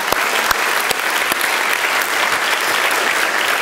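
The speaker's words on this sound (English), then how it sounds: "can we just give him a hand clap?" Church congregation clapping for their pastor during a service, a dense, even burst of hand claps that holds steady throughout.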